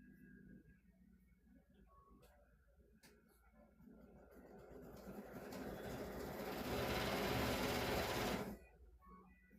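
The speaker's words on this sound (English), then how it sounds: "Hold on, I'm going to sew that right there." A sewing machine stitches a car seat cover, starting with quiet ticks and then building into a fast, steady whirring run that grows loud before stopping abruptly near the end.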